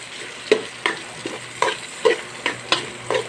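Lomi ingredients with squid and chicken stirred in a pan, a spatula scraping and clacking in about eight distinct strokes over a low background sizzle, close and fairly loud.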